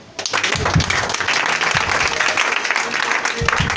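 A church congregation applauding and cheering for the Lord: loud, continuous clapping from a large crowd, with voices rising through it.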